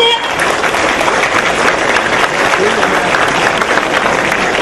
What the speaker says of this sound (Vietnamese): 给你们一个最热烈的掌声